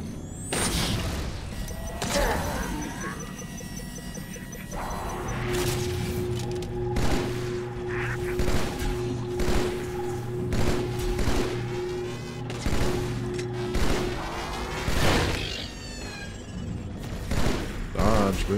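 Gunfire rings out in the video game Halo: Spartan Strike, including sniper rifle fire, with repeated sharp shots and booms over a steady mechanical hum and some electronic game tones throughout.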